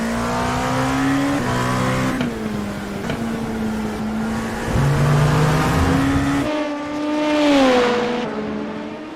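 An LMP prototype race car roars onboard around Brands Hatch in a racing game, its loud, steady engine drone rising through the revs and dropping in pitch at each gear change, with no voices.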